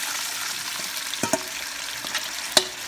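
Milkfish adobo marinade sizzles and crackles in a wok with a constant hiss, broken by a few sharp clicks and scrapes from stirring.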